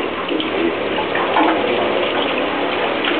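Water pours steadily from a tap into a sink for dishwashing, a continuous loud rushing hiss with no pauses and no voices.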